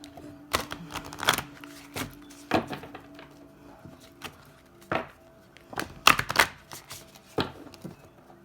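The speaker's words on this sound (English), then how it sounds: "I'm going to shuffle each deck and get one card from each of them." Oracle card decks are shuffled in a series of quick riffling bursts and soft taps, close and fairly quiet, with short pauses between.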